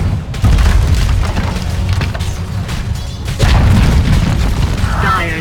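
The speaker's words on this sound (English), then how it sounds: "Dire's middle tower has fallen." A tower crumbling in Dota 2 as a loud, sustained booming rumble with splintering crashes, a second heavy surge midway through, the whole collapse rolling on for several seconds without voices.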